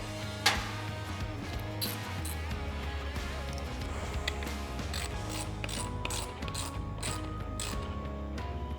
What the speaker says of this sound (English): now that everything's finger tight, we can go ahead and tighten it all up